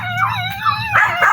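A dog whimpers and yips up close in a continuous run of high, wavering whines and short yelps, loud and alone with no talking.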